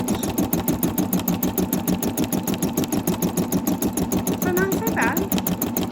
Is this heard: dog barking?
no